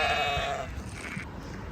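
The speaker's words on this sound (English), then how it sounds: "the sheep think they're getting fed again" A sheep on a farm during lambing season lets out one loud, close bleat, followed by quieter background farm noise.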